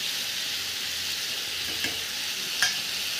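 Turmeric, salt and chilli fry in a pan for a chicken curry, giving a brief, even hiss of hot oil with a couple of light utensil taps near the end.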